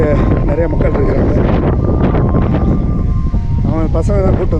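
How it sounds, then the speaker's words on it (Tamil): Strong wind gusts across a hilltop viewpoint, buffeting the microphone in a continuous roaring rush while voices are heard underneath. "நல்ல காற்று இருக்குது, சூப்பர் காற்று"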